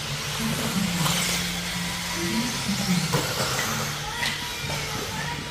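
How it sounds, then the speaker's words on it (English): A Team Associated B3 1/10 scale rear-motor RC buggy drives on an offroad race track, its electric motor whining and rising in pitch amid outdoor crowd noise and faint voices. "This is Mike Sokalski's Team Associated B3."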